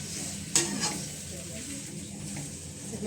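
Ginger and onion frying in a pan for tomato pickle, a steady close sizzle with a sharp stir or scrape early on and faint voices in the background.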